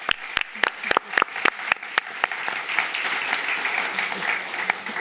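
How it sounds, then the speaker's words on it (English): Audience applause for the speakers at an event in Tallinn: a few sharp, separate claps at first, then swelling into steady, dense clapping from a crowd that carries through to the end. "And also a very big round of applause for the excellent speakers that we had here, Salil, Sevgil, Daimar, Steph."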